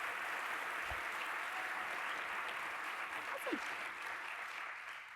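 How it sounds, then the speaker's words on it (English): Applause from a keynote audience at a technical skills event, a steady wash of clapping with a faint voice briefly underneath. "Let's give another round of applause."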